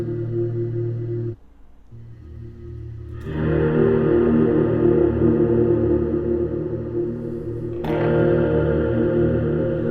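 Guitar notes through the hazy setting of a Klowra Limbo reverb pedal swell into a washed-out reverb, sustained ambient chords blooming and overlapping, with a brief dip before the sound thickens again.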